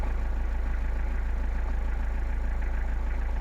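A Mitsubishi Delica camper van engine idles steadily, a low, even mechanical hum with a constant drone and no voices or revving.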